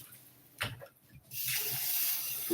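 Warm water pours from a tap onto abacha, shredded dried cassava, being washed for African salad; brief handling noises come first, then a steady, close rush of running water.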